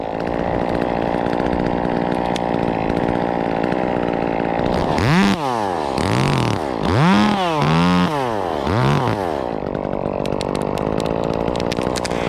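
A chainsaw runs steadily, then bogs down and revs repeatedly as it undercuts a tree limb near wires, the engine pitch dipping and rising several times before settling back.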